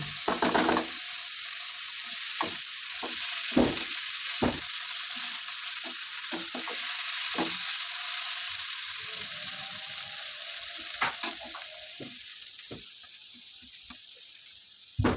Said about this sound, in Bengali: এভাবে নেড়ে চেড়ে মাংসের পানিটাকে ভালো করে আমরা শুকিয়ে নিব